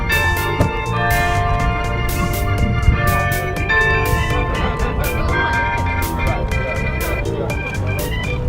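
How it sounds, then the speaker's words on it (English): Bell ringing at five o'clock on the main market street of Reykjavik, Iceland, a run of regular metallic strikes with lingering tones, sounding over a dense, busy background of street noise. "The bell is ringing at 5 o'clock."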